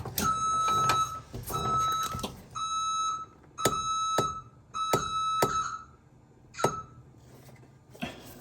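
Repeated electronic reversing beeps from a 1988 Chevy C30 square-body truck in short bursts, some single and some paired, with bright tonal harmonics and low engine rumble between them.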